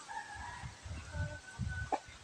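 A chicken clucks in short low bursts, with a sharper squawk near the end, against a quiet background.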